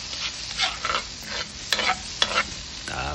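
Chili being sautéed in a pan for a Filipino pork-offal dish, with strong sizzling broken by several distinct scraping stirs of a utensil against the pan, close and loud with no talk.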